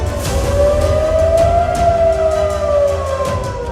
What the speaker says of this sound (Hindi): दक्षिण कोरिया में सारी रात सायरन बजता रहा।